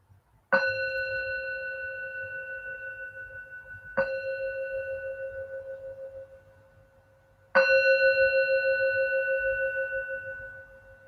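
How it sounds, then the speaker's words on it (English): Meditation bells rung three times with slow pauses between, each strike a clear bright ring that lingers and fades gradually, the last one louder, in a quiet room. "So I'm going to ring some bells"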